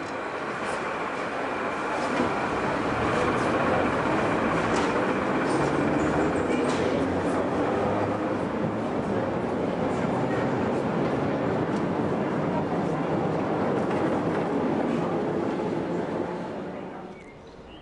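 A historic Berlin U-Bahn Kleinprofil type A2 train running, a loud continuous rumble and rattle of wheels and cars that holds steady before easing off at the end.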